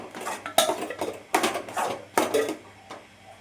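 A ladle scrapes and knocks against a pot while thick urad dal kali is stirred, three louder bursts of clatter with softer scraping between, close up and without talk.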